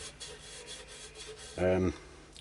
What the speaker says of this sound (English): Just doing it with my ordinary bowl sander